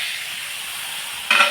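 Water hits a hot frying pan holding young goat meat curry with fried potatoes, cooked Bengali style. A steady oily sizzle runs throughout, then bursts into a louder, sharper hiss near the end.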